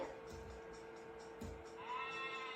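A goat bleats from an educational app for preschool children, a short nasal call heard against light background noise with faint talk nearby.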